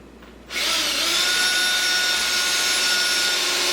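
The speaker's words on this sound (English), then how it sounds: "So we'll drill a new hole and put a new screw in." A power drill starts up after a brief quiet moment and runs steadily with a high whine, boring a new screw hole into a wooden table-saw crosscut sled, close and loud.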